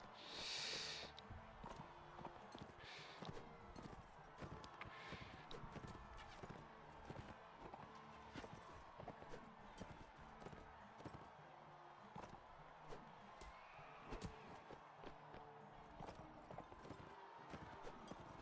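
Repeated clip-clop of horse hooves at a steady trot in the game Mount and Blade: Warband, fairly close, with a brief high whinny at the start and scattered game noises.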